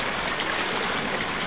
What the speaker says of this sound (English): Spell to freeze this flowing water.